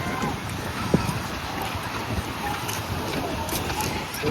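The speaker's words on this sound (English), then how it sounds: "It's a bit breezy though" A breezy wind blows outdoors on an overcast day in Italy. It makes a steady broadband rush that buffets the microphone, with one brief thump early on and no clear speech.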